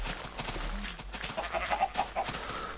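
Chicken clucking in Minecraft, a short series of small clucks standing out over a busy game background, fairly faint, with no talk over it.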